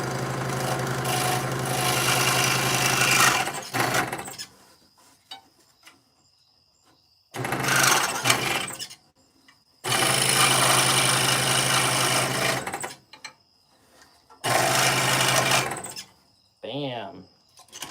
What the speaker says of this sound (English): Coming from the machine that I'm using that's got a high-speed blade.